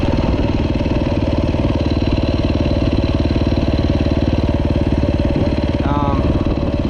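Motorcycle engine running steadily on an off-road adventure ride in the Waychinicup–Cheynes area, a loud continuous low drone with a constant rhythmic thrum, close and unbroken throughout.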